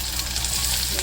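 Onion frying in a pan for okra avial, a brief, steady close sizzle with a faint low hum underneath.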